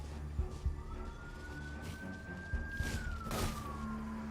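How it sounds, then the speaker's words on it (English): A police siren wails outdoors at a moderate distance, its tone rising slowly then falling, over a steady background hum and scattered knocks. "it is a necessary evil that you hear sirens every now and then"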